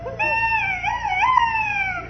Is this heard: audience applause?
no